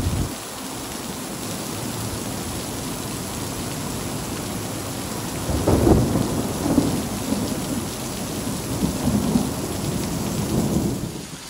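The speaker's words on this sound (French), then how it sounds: "qui dit orage dit éclair et tonnerre." A thunderstorm over Ottawa brings steady heavy rain with a constant hiss, while rolling thunder rumbles up louder in the middle and again toward the end.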